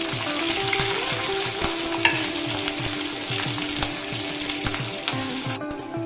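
Garlic and chillies sizzle in hot oil for a mango and lemon pickle, with a steady close crackling fry and occasional sharp spits and stirring scrapes throughout.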